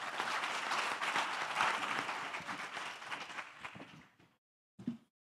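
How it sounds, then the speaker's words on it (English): An event audience gives a panel a round of applause, steady clapping that tapers off and fades out, followed by a brief few claps after a short silence. "Please give our panel a round of applause"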